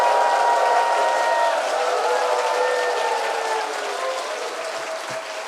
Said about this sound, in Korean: 우리 이재문 목사님 나오실 때에 하나님께 영광의 박수와 함께 함성과 함께 강사님 모시겠습니다.